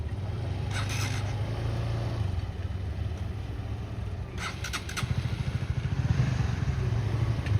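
Motorcycle engine running steadily near a parking area outside a pre-wedding thanksgiving service, with a low rumbling drone throughout and a rougher revving surge near the end, brief clatters mixed in.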